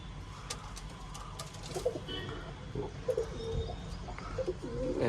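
Pigeons coo softly in overlapping low calls while small birds chirp sharply around them, all against a steady outdoor background rumble.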